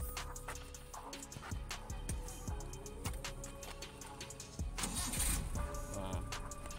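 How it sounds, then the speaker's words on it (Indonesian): A Suzuki Carry engine cranks with repeated starter turns and catches, settling into a steady idle, close and moderately loud with no talking over it. "Mesinnya juga masih enak banget ya, halus"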